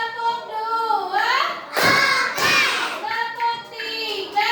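Children in an Indonesian classroom clap a rhythmic patterned clapping routine on cue, a burst of sharp hand claps in the middle of a spoken and chanted exchange with the teacher.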